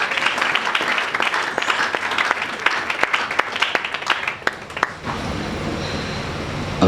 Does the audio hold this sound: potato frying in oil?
no